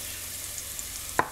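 Onions fry in a pot for a Guyanese mango curry, giving a soft, steady sizzle, with a couple of brief stirring scrapes near the end.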